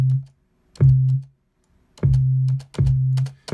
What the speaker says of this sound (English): So now we got our kick sitting on top of the sub.